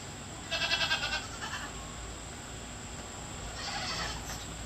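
A dairy goat bleats twice during morning milking, two short wavering calls a few seconds apart, faint against a quiet barn background with no talk.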